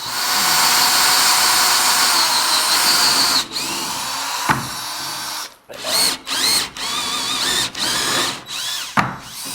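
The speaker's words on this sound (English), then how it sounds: "I hate drilling tiles." A power drill drilling tiles whines loudly and continuously, then bites in short repeated bursts with brief pauses between them, up close.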